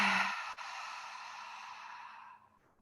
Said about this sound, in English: We'll inhale through the nose, and then open the lips to exhale.